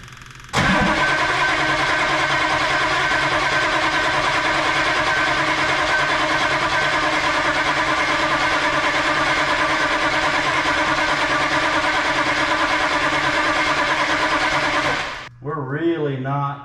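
A 1983 GMC Sierra with a 6.2L diesel engine cranks loudly and steadily for about fifteen seconds, a continuous mechanical drone, then stops abruptly, leaving a brief quieter rumble.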